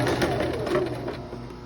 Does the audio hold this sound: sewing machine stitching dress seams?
yes